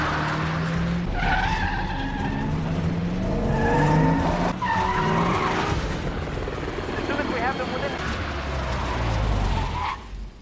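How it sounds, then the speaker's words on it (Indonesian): Film car chase with tires skidding and squealing across several bursts, engines roaring loudly over a busy mixed soundtrack, with voices and music underneath. "Alma menunjukkan kehebatannya dalam mengemudi hingga mobil Jack terbalik dan terbakar"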